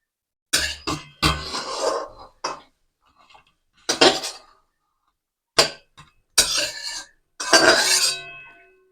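A spoon scrapes and clinks against a pan as bread chop filling is scooped out, in a handful of sharp, separate metallic knocks with short silences between them and a faint cough partway through.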